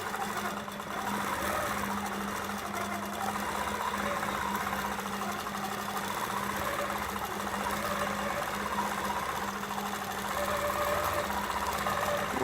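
A sewing machine running steadily through machine quilting, a continuous whirring hum with a close, rapid needle rhythm that holds for the whole stretch without pause or speech.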